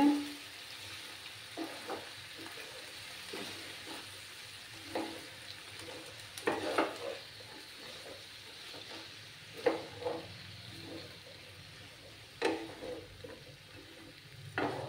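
Bottle gourd peel mixed with turmeric powder is stirred in a pan over a gas flame, giving repeated soft scraping strokes and occasional light knocks over a faint, steady sizzle.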